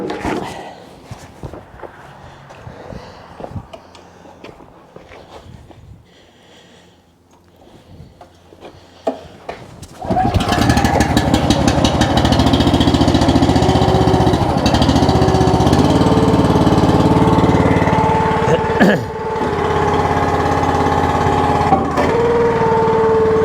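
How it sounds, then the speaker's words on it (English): An Eastonmade 12-22 log splitter engine starts partway through and runs at a loud, steady roar, close by, after a quieter stretch of footsteps and handling of hickory pieces; brief changes in pitch as the load shifts. "get the splitter running here"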